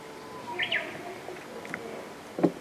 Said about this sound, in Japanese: ウグイスのね鳴き声しか聞こえない